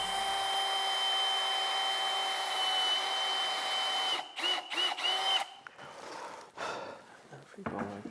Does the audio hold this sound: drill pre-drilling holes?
yes